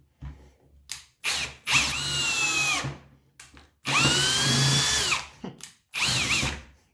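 Parkside cordless drill driving a screw with a Phillips torsion bit, three whining runs of about a second each, rising in pitch, separated by brief pauses and small clicks, close and alone.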